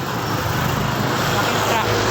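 Large truck passing on a road in Norzagaray, Bulacan, a continuous broad roar of traffic close by, steady and fairly loud for the whole moment.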